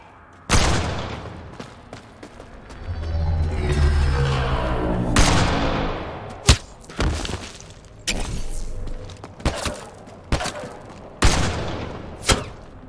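Gunfire during a firefight in the video game Mass Effect Andromeda: a rolling burst of shots and booms early on, then a series of sharp, loud single shots spaced a second or so apart.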